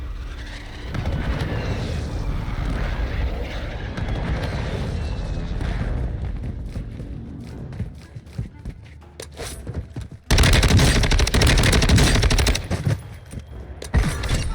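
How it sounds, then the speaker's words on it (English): Gunfire in a Call of Duty: Warzone gunfight, steady rapid automatic bursts for several seconds, a sparser lull with scattered shots, then a loud renewed barrage, close and heavy, with talking mixed in. "I want to finish this gunfight before they can regroup and fully replate"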